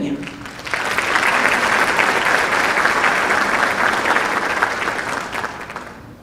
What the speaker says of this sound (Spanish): Recibimos en este escenario, con el aplauso de todos ustedes para completar el panel de esta mañana